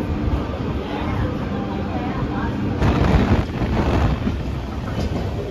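Mettupalayam to Tirunelveli special express train running on the line near Podanur, a steady rumble of wheels and carriage noise with wind buffeting, heard from on board.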